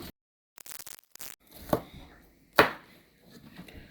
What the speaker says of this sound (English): we're just gonna chop up some peppers real quick